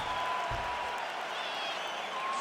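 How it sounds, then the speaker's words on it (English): A crowd cheering in the fighting game UFC 5 after high-level grappling between two women fighters: a continuous loud roar of applause and shouting, with a commentator's voice over it. "The crowd goes crazy because they appreciate the high-level grappling"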